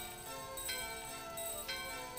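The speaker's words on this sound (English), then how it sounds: "As we ring the bell here" In Final Fantasy IX, a bell rings in bright, metallic tones. Two distinct strikes about a second apart leave sustained shimmering overtones. The bell sits moderately quiet over faint game ambience.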